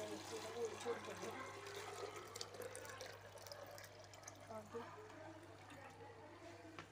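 Water poured into a brine shrimp (artemia) hatching setup, a soft continuous splashing and trickling flow under a low steady hum, with a voice talking faintly at times.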